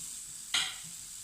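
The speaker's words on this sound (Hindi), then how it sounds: "साबुत धनिया ये 2 टेबलस्पून इसमें चला जाएगा।" Whole coriander seeds land in hot oil that has already fried pakoras and koftas, giving a low, steady sizzle and then one sharp, brief hiss burst, with no voices.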